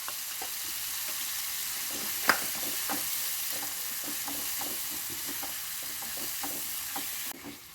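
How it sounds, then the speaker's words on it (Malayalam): Chili paste with a half-and-half mix of Kashmiri and regular chili powder frying in oil for a fish curry: a steady close sizzle with repeated scraping strokes of a spoon stirring the pan, one sharper knock partway through. "ആദ്യം പേസ്റ്റാക്കി വെച്ച മുളക് ഉണ്ടല്ലോ മുളക് പൊടി ഇതിലേക്ക് ചേർത്ത് എണ്ണ തെളിയുന്നത് വരെ ഒന്ന് ഇളക്കിയെടുക്കാം"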